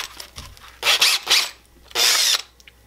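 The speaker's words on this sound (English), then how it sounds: "See, chucks up in your drill." A drill spins a buffer wheel while buffing the finish on a handmade acoustic guitar, giving three short close whirring bursts with brief pauses between them and no speech.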